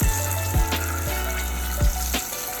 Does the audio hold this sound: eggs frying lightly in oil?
yes